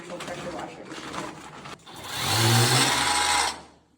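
A pressure washer used for graffiti removal in a cave starts up with a rising mechanical whine and hiss, runs loudly for a second or two, then cuts off, after a stretch of quieter noise with someone talking.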